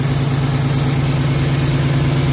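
A PACCAR MX13 truck engine with a compression leak runs steadily at idle, a loud continuous low rumble with a regular pulsing throb and no voices over it.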